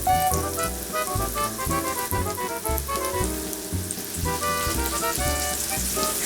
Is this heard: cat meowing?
no